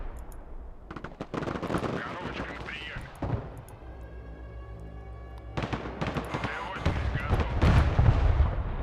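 Rocket and tank fire in the real-time strategy game Broken Arrow, a dense run of sharp gunfire-like bursts and booms that rises toward the end, with a tonal, whining stretch in the middle and speech running through it.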